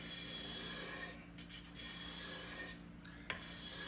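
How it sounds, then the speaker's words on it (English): A flexed card scraper drawn across wood, taking thin shavings in a few soft, raspy strokes separated by short pauses, heard close up with no voices. "you can bend the scraper and come in here like this and take shavings out this way"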